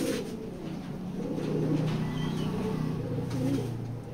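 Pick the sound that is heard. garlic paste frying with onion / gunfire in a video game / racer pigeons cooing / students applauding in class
racer pigeons cooing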